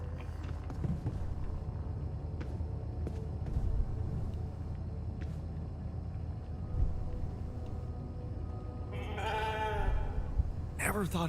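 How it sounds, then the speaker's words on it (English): Sheep bleating outdoors, short wavering bleats near the end over a rumbling background with a few knocks, no speech over the calls. "Never thought I'd be so glad to see a sheep."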